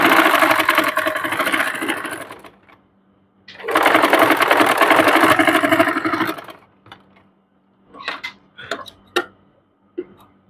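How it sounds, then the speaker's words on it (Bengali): A sewing machine runs a quarter-inch topstitch along a puff sleeve, buzzing steadily through two long close bursts, then falls to scattered clicks and short knocks as the fabric is handled. "আমি আরো একটা 1/4 চাপ সেলাই দিয়ে নিব, 1/4 টপ সিন দিয়ে নিব"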